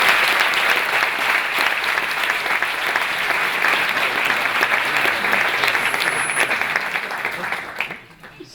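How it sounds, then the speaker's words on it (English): Audience applause at a DLD16 campus lecture welcoming Airbnb co-founder and CTO Nathan Blecharczyk, a dense, loud, sustained clapping from a large crowd that continues steadily before tapering off abruptly near the end. "please give a big applause for Nathan to be here today"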